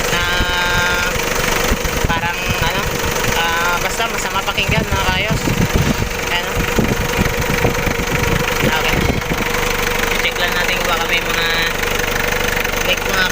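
A Mitsubishi Adventure 4D56 diesel engine runs steadily with a rattling knock after a fan belt replacement, and someone talks over it throughout.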